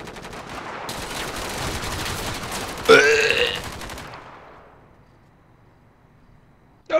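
Sustained automatic gunfire in GTA 5, a long rattling burst with a louder crack near the middle that fades into quiet, then one sharp shot at the very end.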